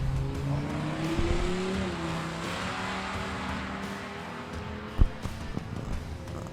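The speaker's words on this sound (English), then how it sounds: "V10 has found its way into high gear, or some semblance of one" A V10 pickup truck engine roars and rises in pitch as it accelerates hard at Hot Rod Drag Week 2025 drag racing, loud and sustained, with a sharp knock near the end.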